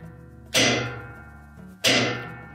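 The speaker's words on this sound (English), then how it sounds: "Prefer to use a short-handled hammer so that we don't damage the tub." Two sharp metallic taps from a short-handled hammer on a Whirlpool washer's drive block ring out about a second apart, each with a bright, quickly decaying ring over a faint background hum.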